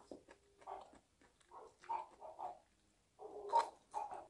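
A neighbour's dog gives off scattered yelps and whines, faint and somewhat distant, in short bursts separated by quiet gaps.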